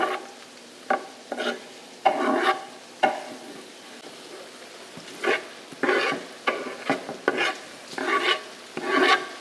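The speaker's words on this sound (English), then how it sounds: "we're gonna put half of this zucchini in with our sausage and the other half with our onions and peppers" Zucchini and sausage cook in a hot pan, with repeated scraping stir strokes in an uneven rhythm over a soft background sizzle, close and fairly loud, with no talking.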